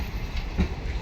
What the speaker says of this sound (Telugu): ఈ ట్రైన్ వచ్చేసి తిరుపతి ఇంటర్సిటీ ఎక్స్ప్రెస్ అనమాట.